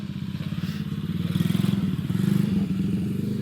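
Engine of a 125cc Chinese pit bike from Amazon revving hard through a gear shift as it lifts into a wheelie on a hill, a steady loud buzzing drone with rising intensity midway.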